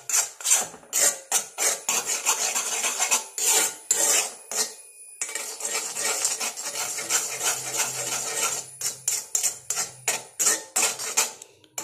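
A spoon scrapes and rasps around an iron kadai as a hibiscus leaf mixture is stirred down, giving rhythmic, fairly close strokes that come in quick bursts with short pauses between them.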